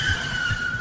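A car skids and spins out after a collision in an animated story, a sustained high tire squeal over low rumbling thumps, short and fairly loud.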